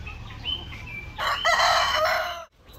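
A rooster crows loudly and close by, a drawn-out harsh call over quieter clucking and background chicken noise, then breaks off abruptly.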